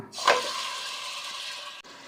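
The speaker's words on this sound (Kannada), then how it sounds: "ಎಣ್ಣೆ ಚೆನ್ನಾಗಿ ಬಿಸಿ ಆದಮೇಲೆ ನಾವೀಗ ತೆಗೆದಿಟ್ಕೊಂಡಿರ್ತಕ್ಕಂಥ ಮಟನ್ನ ಇದಕ್ಕೆ ಸೇರಿಸ್ಕೊಳ್ಳೋಣ" Mutton hits hot oil and breaks into a loud, sudden sizzle, then settles into a steady frying hiss that runs on before cutting off abruptly.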